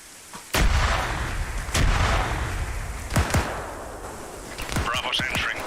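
Frag grenades go off in the Arma 3 video game, with several heavy booming blasts spaced a second or so apart that ring out under a constant rumbling bed, followed by faint sounds of radio chatter.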